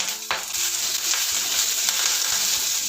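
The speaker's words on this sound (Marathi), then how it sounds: "आता यामध्ये कढीपत्ता घालून घेऊ कढीपत्ता भरपूर घातला तरी चालतो सांबरला" Curry leaves and onion sizzle steadily in hot oil for sambar, a continuous close frying hiss with a few soft stirring scrapes.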